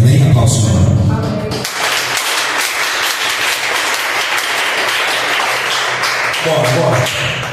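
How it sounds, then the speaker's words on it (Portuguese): A Baptist church congregation breaks into loud, dense applause right after a voice calls for it, the clapping running steadily for several seconds before speech resumes at the end. "Aplausos, Senhor."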